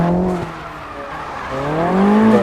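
Racing cars drifting fully sideways through turns in a driving video game, with a steady engine drone and rising, sweeping tire squeal that swells louder toward the end, no talk.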